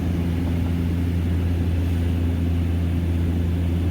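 Inside a Skybus propeller aircraft descending toward the Isles of Scilly, a loud, steady cabin drone carries a deep propeller hum with constant engine tones and no pauses or voices.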